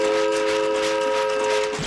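A steam train whistle sound effect: one loud, sustained tonal blast that holds steady throughout and fades slightly at the end.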